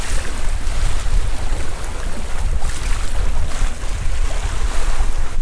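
A sailboat under way cuts through waves, with steady broadband water rush and wind buffeting the microphone throughout, loud and close with no talking.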